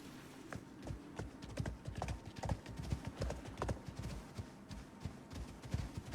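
Hooves clip-clop in a quick, uneven rhythm as a horse travels through icy terrain in the survival game Icarus, steady close footfalls with no talk over them.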